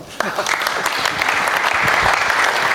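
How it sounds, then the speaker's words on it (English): A crowd claps steadily, a dense, sustained round of applause filling the space with no voices over it. "Round of applause"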